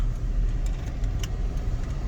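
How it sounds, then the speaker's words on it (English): A car engine runs as someone gets in to drive to Treasure Garden in Ibeju-Lekki, a close low rumble with a few brief clicks and knocks over the steady hum. "I'm gonna get into the car now"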